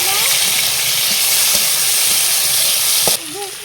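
Onion, garlic and chilli frying in a pan hiss loudly and continuously, with faint knocks of stirring, before the noise drops a little near the end as chopped tomato goes in.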